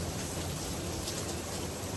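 Heavy rain pours steadily off a roof, a dense, even hiss of falling water with no talk, close and constant throughout.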